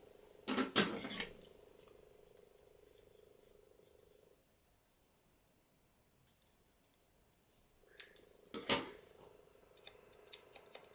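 Two short bursts of paper being snipped with scissors on a papercraft project, close and crisp, separated by a quiet pause, with a few light clicks near the end.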